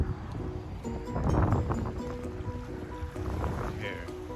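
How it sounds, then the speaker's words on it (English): Strong wind gusts roar over a microphone on an outdoor walk near San Francisco with a view of the airport and downtown, a loud, continuous rumble that swells and eases. "It's always windy right here."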